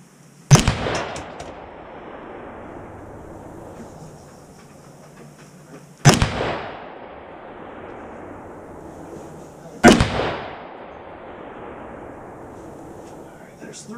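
Three loud, sharp rifle reports from a Ruger SFAR .308 fired outdoors, spaced several seconds apart, each followed by a long rolling echo that fades away.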